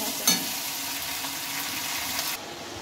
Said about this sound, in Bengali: আদা জিরে বাটাটা তোমরা দিয়ে নেবে, আমি 1 চা চামচ মতো দিয়ে নিয়েছি। একটু ভালোভাবে তেলের সঙ্গে কষিয়ে নিতে হবে।